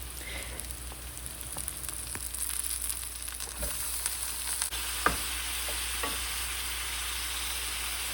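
Two pounds of ground chuck browning in a pan with onions, seasoned with salt and pepper, giving a steady close sizzle with occasional soft stirring clicks and no voices.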